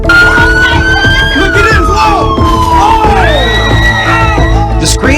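A crowd screaming and yelling in chaos at a street intersection, loud and dense, with wailing, siren-like cries rising and falling over a constant roar of voices.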